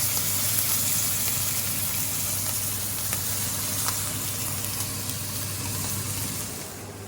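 Steak searing in a hot pan for a four-course home-cooked meal, a steady faint sizzle and hiss over a low constant kitchen hum, with no talking.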